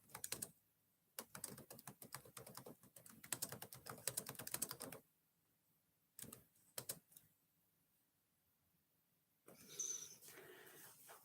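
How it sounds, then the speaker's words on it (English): Computer keyboard typing in close, rapid bursts of clicking keys separated by quiet pauses, ending with a short rustling handling sound. "I love when I go to type and I hit the wrong key"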